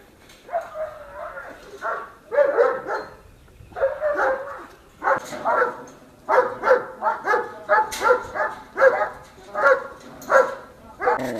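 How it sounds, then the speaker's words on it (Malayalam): A native country dog barks repeatedly in short bursts, close and fairly loud, with some whimpering yips between barks. "ഇവിടെ നല്ല സ്നേഹം കാണിക്കണ ഒരു നാടൻ ഡോഗ്സ് ഉണ്ട് കേട്ടോ"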